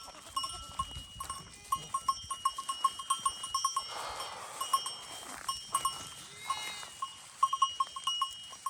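Sheep bleat now and then from nearby while small bells clink in a scattered, irregular rhythm across a quiet outdoor setting.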